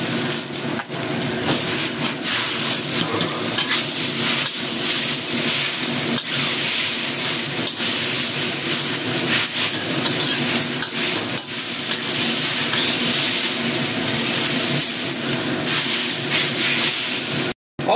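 Rice noodles tossed with bean sprouts in a hot wok for a salted-water vegetarian fried noodle dish, a loud continuous hissing sizzle with scraping and clattering from start to finish, no voices.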